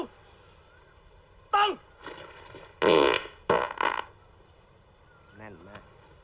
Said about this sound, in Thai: เสียงแน่นจริง ๆ ใครตด